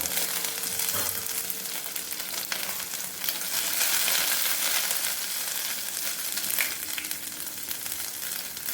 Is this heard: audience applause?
no